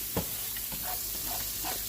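Food sautés in a frying pan with a steady, close sizzle and faint stirring scrapes, continuous and fairly loud over the whole moment.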